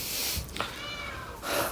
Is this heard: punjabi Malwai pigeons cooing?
no